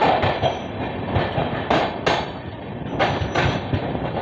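A train rolling at Tilhar railway station, with steady rumbling wheels and sharp rhythmic clicks and clanks as cars pass over rail joints, close and fairly loud with no talking.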